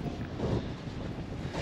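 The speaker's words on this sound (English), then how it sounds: "It's a very windy day today, actually." Outdoor wind at a no-prep drag racing event in Immokalee, Florida, buffets the microphone with a low, continuous rumble that stays faint and unbroken throughout.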